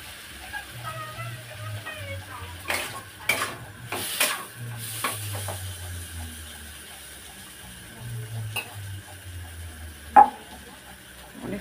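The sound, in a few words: potatoes with spices being stirred and fried in oil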